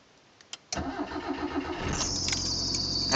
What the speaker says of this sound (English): when you start the car,